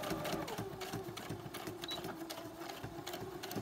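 A sewing machine runs a straight stitch through a junk journal, a steady close whirring with a fast, regular needle pulse throughout.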